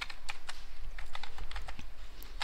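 Typing on a computer keyboard while a shell script is entered, a quick irregular run of crisp key clicks, close and fairly loud, with no talking.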